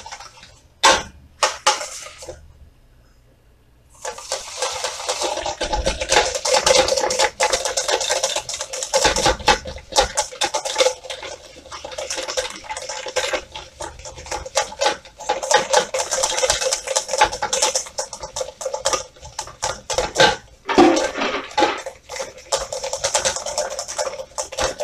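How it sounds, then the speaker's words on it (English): A whisk rattles briskly and continuously against a bowl while hollandaise sauce is mixed with a spoonful of water, sharp rapid clicks close up after a brief quiet opening, steady for most of the stretch. "Continue to mix."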